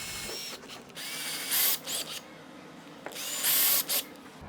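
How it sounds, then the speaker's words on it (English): A power drill bores pilot holes into a wall in two short, high-pitched whining bursts, each spinning up and stopping, close and clear with quiet handling noise between them. "I'm going to go ahead and drill some pilot holes in the wall"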